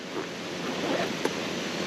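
A steady, broadband roar of a camp stove burner boiling water in a cook cup, close and continuous, with a single faint click partway through.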